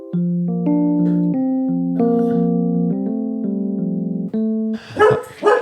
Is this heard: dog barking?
yes